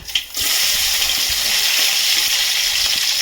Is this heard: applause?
no